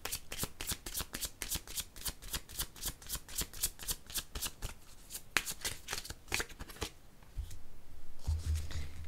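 Tarot cards shuffled by hand in a rapid, even riffle of crisp slaps lasting several seconds, then slowing into a few looser shuffles and soft handling sounds near the end, close and clear with no talking.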